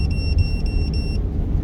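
Truck engine idling, a close, continuous low rumble with a high electronic whine that cuts out partway through while the engine drone carries on, no voices.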